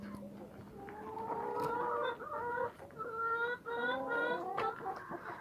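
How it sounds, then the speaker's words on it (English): Hens in a backyard chicken coop cluck and warble in overlapping rising calls, close and moderately loud, with a soft voice briefly at the start. "So we are officially at the chicken coop."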